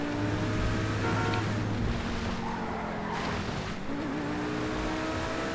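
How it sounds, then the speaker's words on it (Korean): Car engine in the GTA V video game, a modified Pegassi Tempesta, droning steadily with shifting revving tones and tyre-like hiss, loud and continuous with no talk. "엔진 소리 지리고"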